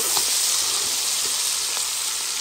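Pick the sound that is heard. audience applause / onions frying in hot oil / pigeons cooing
onions frying in hot oil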